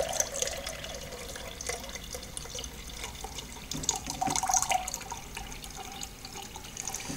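Beer line cleaner flushing out of a tap into a pint glass: a steady, soft stream of liquid splashing and trickling into the glass, with faint glassy clinks partway through.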